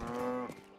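A cow moos once in the video game Rustler, a single clear, fairly loud low bellow lasting under half a second, then a quiet tail.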